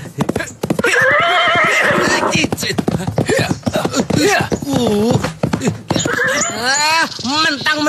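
A horse whinnies loudly and repeatedly with quavering, drawn-out calls, mixed with hoof clip-clop and busy speech-like sound, all close and dense throughout.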